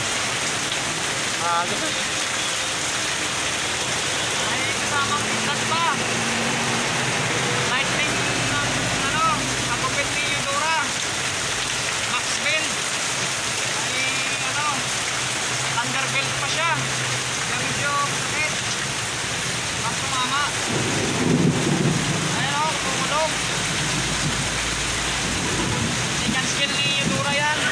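Heavy rain pours steadily on a road in Tagaytay, a dense continuous hiss with occasional low rumbles, while people talk intermittently over it.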